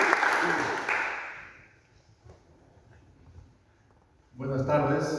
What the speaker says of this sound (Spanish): Recibámoslo con fuertes palmas, por favor.